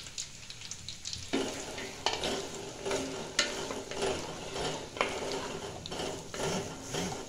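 Food frying in a pan for carrot halwa, a quiet sizzle broken by several sharp stirring scrapes and knocks at irregular intervals.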